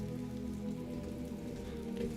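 Steady rain in The Witcher 3 falls as an even, continuous wash of patter, moderately loud and unbroken, with no voices over it.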